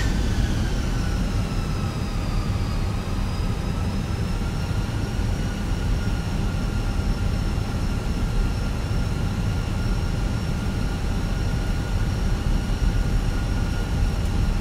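Steady, loud roar of an Air Moldova Airbus A320 jet airliner taking off at Innsbruck airport, continuous engine noise with whining tones throughout, heard from close by.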